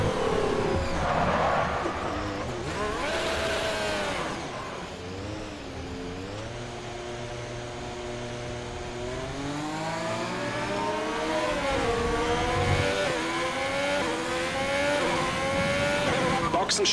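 A Formula 1 car engine whines and shifts through gears in the F1 2020 video game during practice at the Chinese Grand Prix in Shanghai, rising and falling pitch sweeps with a voice speaking over it.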